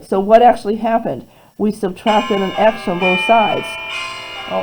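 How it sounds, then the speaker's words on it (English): An alarm rings with a steady, sustained tone under a teacher's algebra lesson, starting midway and continuing alone after a short pause in the speech. "that's my alarm"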